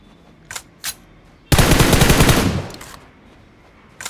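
Gunfire in the video game BGMI: two single shots, then a loud rapid automatic burst lasting about a second, followed by another faint shot at the end.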